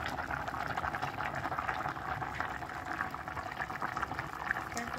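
A pot of food boils steadily on a stove, giving off a continuous bubbling, hissing rumble at moderate level with no pauses, and faint talk underneath.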